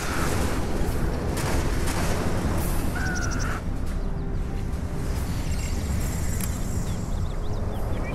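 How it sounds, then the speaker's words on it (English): A nuclear missile strike lands in C&C Generals, a heavy roaring blast with rumbling debris and crackling fire that fills the scene, followed by lingering battle noise and faint tonal game effects. "Warning, nuclear missile launched."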